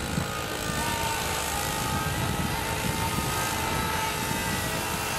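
A model airplane engine drones steadily and evenly for several seconds as the plane comes in to land outdoors at a flying event, its buzz fairly distant and broadband with no talk.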